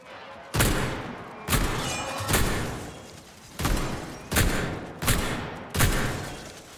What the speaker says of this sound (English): I actually really like the automatic shot on this. You just hold down and it just goes.